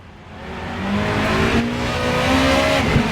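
A super touring race car in Assetto Corsa has its engine note drop and waver as the wheels lock up under heavy braking, with a steady loud drone and sliding tonal lines near the end.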